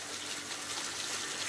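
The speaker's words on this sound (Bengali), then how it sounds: "এটা দিয়ে উপরে পানি উঠে, এই যে উঠছে, এখনো ধীরে ধীরে পড়ছে" Water gushes steadily from a pump pipe in a rural Bengal setting, a bright continuous splashing rush with no voices.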